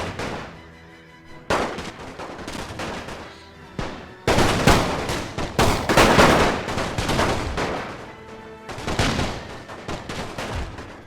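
Infantry volleys crash out in a World War I strategy game with The Great War mod, Austro-Hungarian side: loud rolling musket and rifle fire in several waves, overlapping shots crackling near and far between short lulls.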